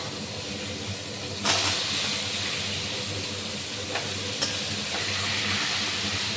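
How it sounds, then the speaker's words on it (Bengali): Pieces of pointed gourd (potol) frying in hot oil for a potato and potol curry, a close, continuous sizzle and hiss with a few brief sharper spits and stirring clatters, no voices. "পটলটা ভেজে তুলে রাখবো"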